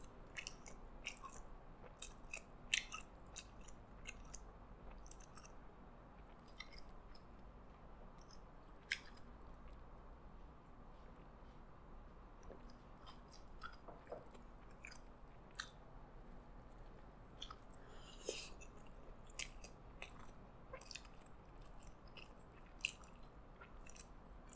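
Soft, steady chewing and biting on a McDonald's Prosperity Burger with a peppery sauce, close and quiet. Frequent small moist crunches and squishes go on throughout, with no talking.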